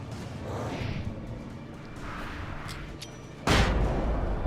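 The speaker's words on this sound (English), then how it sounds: "Another flashbang." A flashbang explodes in the Alan Wake video game, bursting suddenly into a loud, broad boom that rings on after some quieter whooshing game ambience.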